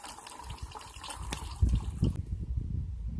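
Stream water is poured outdoors on a trail, making a close liquid splash and gush that grows heavier midway and then continues as a lower burble.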